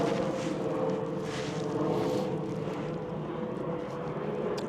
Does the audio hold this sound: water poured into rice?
no